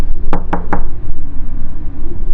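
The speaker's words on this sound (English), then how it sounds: "She knocked" Three firm knocks on a wooden door land close together, ringing clearly over a low steady background hum, then the background carries on alone.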